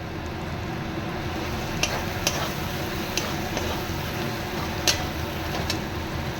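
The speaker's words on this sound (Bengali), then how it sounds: "আমি কিন্তু গরম জল দিয়েছি, দেখুন দিতেই সঙ্গে সঙ্গে ফুটে উঠছে" Hot water poured into frying spice masala for an egg malai curry sets off a steady, close sizzling bubble that runs throughout, dotted with a few sharp ticks and clicks, and no one speaks.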